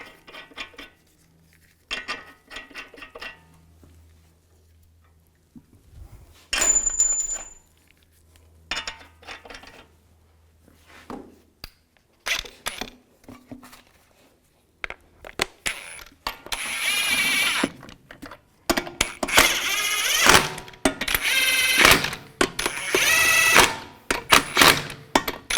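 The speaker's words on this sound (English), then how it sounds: "Put the wheel on. Put the lug nuts on." Metallic clinks, clanks and ratcheting come from a wheel and lug nuts being fitted back onto a 2010-2017 Chevrolet Equinox. The clatter is sparse at first and grows into denser, louder bursts of close tool noise.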